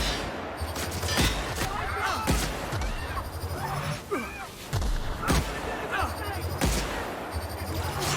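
Gunfire from a weapon in the video game The Outer Worlds cracks out in a rapid string of loud shots over a busy combat din, with someone talking between bursts.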